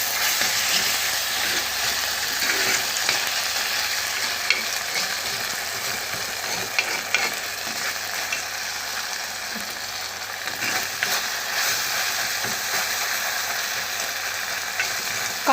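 Tomato soup ingredients sautéing in a pan, a steady close sizzle with repeated scraping and clinking stirs running throughout.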